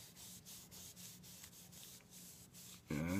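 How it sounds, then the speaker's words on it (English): A rag rubbing tung oil into a wooden AK-style rifle stock, producing soft, rhythmic scrubbing strokes at close range, faint and steady, with a louder noise breaking in at the very end. "You can really rub this first coat in."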